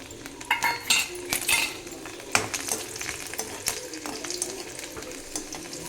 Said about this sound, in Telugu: ఆవాలు చిట్టపట్టలు ఆడుతున్నాయి